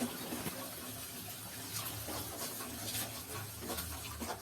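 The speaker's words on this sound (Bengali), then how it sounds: "এর মধ্যে অল্প পরিমাণ জল দিয়ে মশলাটিকে ভালো করে কষে নেব" Water poured into a pan of spices frying over low heat for an aloo matar curry, a steady broad splashing hiss that runs throughout, close and fairly loud, with no one talking.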